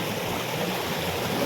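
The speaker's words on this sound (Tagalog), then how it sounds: "kumukulo-kulo na tubig." Rushing, churning river water roars steadily and close by, a dense, hissing wash with no other sounds.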